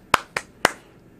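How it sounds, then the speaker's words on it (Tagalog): Three sharp hand claps keep time with a Filipino children's action song, spaced about a quarter second apart, crisp and close with no voices in between. "Kung ikaw ay masaya, pumalakpak."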